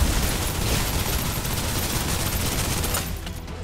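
Suppressive gunfire in the shooter game Snowbreak: a dense, continuous rattle of rapid shots that holds loud and steady, then thins out abruptly near the end.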